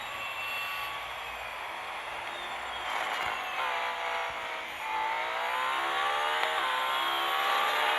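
Race car engines in a racing video game qualifier stage, revving and shifting with rising whining harmonics, loud and steady, building again as another car closes in.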